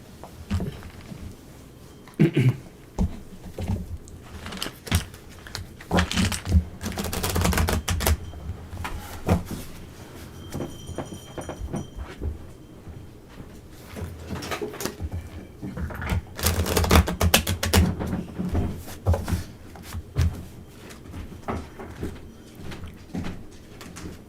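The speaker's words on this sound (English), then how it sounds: "All right, I'm shuffling." Tarot cards being shuffled by hand, with bursts of riffling and soft slapping that come and go between quieter moments, close to the listener.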